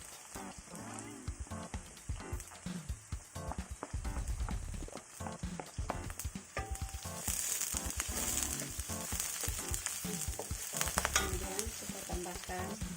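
Chili frying in a pan while cooking boiled Indomie noodles, steady crackling sizzle with repeated stirring scrapes and clatters, close and fairly loud, no voices.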